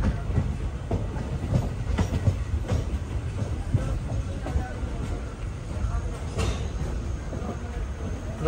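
Passenger train in Kerala at Poonkunnam railway station, a steady rumble with rhythmic clatter of wheels over rail joints continuing throughout, fairly loud and close, with voices faintly in the background.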